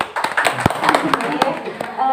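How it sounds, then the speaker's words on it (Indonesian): A small group claps for a man at a maternity ward health session, scattered uneven hand claps with sharp individual hits and voices talking underneath. "Tepuk tangan untuk Bapak Dedi."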